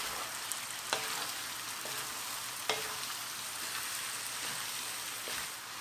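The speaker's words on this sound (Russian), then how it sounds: "Картошка стала поджариваться. Отправляем сюда капусту." Potatoes and cabbage sizzle and crackle steadily in a hot frying pan, with a few soft clinks of a utensil against the pan.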